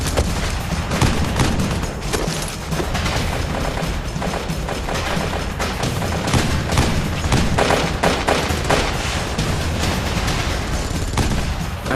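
Dense, continuous gunfire in the Battle of Takur Ghar, with rapid overlapping shots and heavy booms packed together, loud and chaotic throughout.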